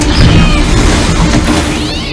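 Cat yowling in a loud, chaotic fantasy adventure movie scene, a brief strained cry riding over a dense soundtrack of crashing noise and score.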